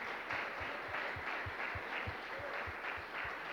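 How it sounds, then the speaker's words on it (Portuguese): A church congregation applauding, a steady, even wash of many hands clapping with a faint rhythmic thump underneath, sustained throughout. "esse aplauso nesse nível, eu acho que foi para mim"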